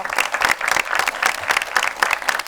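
Studio audience applauding co-anchors on a talk show, a dense, lively burst of many hands clapping close and loud, steady throughout with no voices over it.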